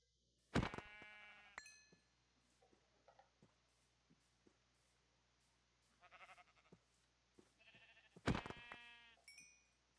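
Sheep bleat in a sandbox crafting video game, two loud close bleats near the start and end with softer bleats and small clicks between, over a quiet steady hum.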